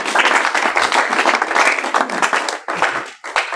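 An audience claps warmly for an NGO member standing up during a visit to an orphanage, a steady loud round of applause that dips briefly near the end and then picks up again.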